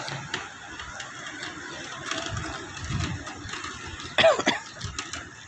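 Someone coughs in a burst of harsh coughs near the end, amid clattering background noise and faint movement sounds.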